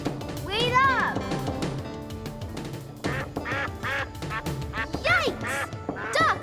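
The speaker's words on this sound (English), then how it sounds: "Ducks everywhere!" Ducks quacking in quick, raspy bursts, several overlapping calls near and loud, with people talking underneath.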